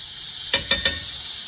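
Garlic and spices cook in a pan for a vegetarian North African tagine, heard as three quick clinking stirs over a steady, bright sizzle.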